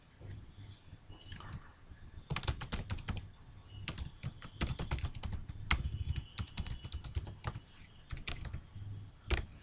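Someone types on a computer keyboard into a web form, the keys clicking in quick irregular bursts with short pauses, close and steady throughout.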